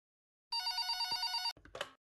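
A telephone in a hospital night-nurse horror video game gives one crisp electronic ring burst lasting about a second, clean and isolated, followed by a brief clunk as the handset is picked up.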